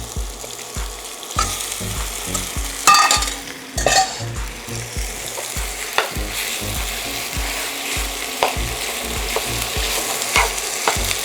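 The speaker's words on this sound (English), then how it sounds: "And now you just brown the meat." Pork browning in a metal non-stick skillet sizzles steadily while a metal spoon scrapes and stirs it in regular strokes, close and fairly loud with no talking.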